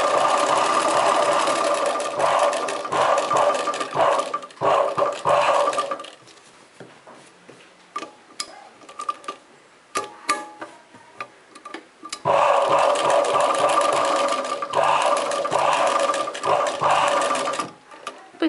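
A domestic sewing machine stitches an embroidery design on a chudidar neck with mirror work, running in steady rapid bursts, pausing in the middle, then resuming at close range with no talk.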